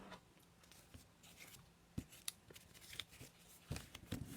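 Scissors trim a thin strip off the edge of a folded paper card, giving faint, close snips and light paper rustles in a quiet room.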